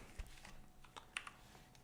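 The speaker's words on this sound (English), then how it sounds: "I need my keyboard" Typing on a computer keyboard: a quiet, sparse run of separate key clicks at close range, with a few sharper taps standing out and no voices.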